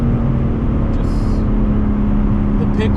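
A BMW M3 Touring G81 runs with a loud, sustained engine drone that holds a steady pitch throughout, with brief faint high-pitched noises in the background.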